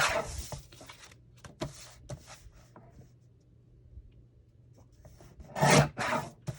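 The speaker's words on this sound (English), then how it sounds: "I need to cut those, trim those edges." Paper card edges are trimmed with a few short scraping cuts, separate sharp rasps and rubs spread across a quiet craft-table background, with a louder cluster of strokes near the end.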